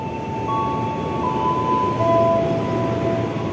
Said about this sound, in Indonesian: ini KRL Cikarang masuk jalur 1